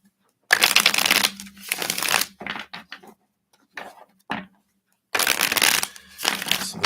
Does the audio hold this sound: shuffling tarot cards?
yes